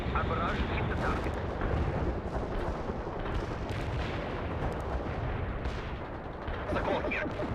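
An artillery barrage in the World in Conflict battle game pounds on with dense, overlapping booms and crackling blasts, loud and continuous, while radio-style voices talk over the bombardment.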